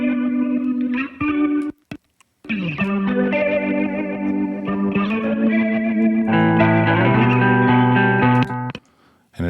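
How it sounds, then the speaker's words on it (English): Electric guitar fed through a Leslie-style rotary preset, a couple of amplifiers and a lot of pedals, giving a wide stereo B3 organ tone; sustained chords with chorus-like swirl play continuously, with two brief gaps. "A very stereo B3 sound."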